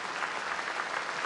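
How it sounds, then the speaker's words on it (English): Steady applause from an audience at a televised 2015 Prince Edward Island election debate, dense and even throughout with no voices over it. "a round of applause for our web editor, Jocelyn Lloyd."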